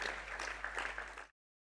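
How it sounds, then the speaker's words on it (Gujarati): An audience at a Thursday youth sabha claps to welcome a speaker: a dense, steady patter of applause that cuts off abruptly after about a second. "એકવાર જોરદાર તાળીઓથી મિતભાઈનું આપણે સ્વાગત કરીએ"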